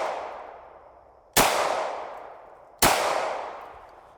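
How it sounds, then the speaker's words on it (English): Two sharp shots from a 9x18 Makarov pistol sound at even spacing, each a loud crack with a long ringing reverberant tail fading out; the onset of a third blast may be cut off, with no voices over them. "All right, 3 rounds of 9x18 with the Makarov."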